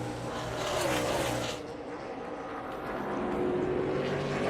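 NASCAR Xfinity stock cars race at Watkins Glen, their engines roaring loud and close as they run downhill through turns one and two, the pitch shifting as cars pass and a second wave follows.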